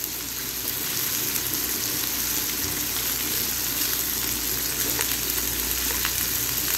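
Pieces of already-boiled mutton fry for Afghani mutton with a steady, even sizzle and crackle, moderately loud and unbroken throughout, with no voices.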